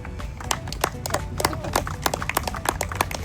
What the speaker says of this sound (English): A round of applause for Julien Pierre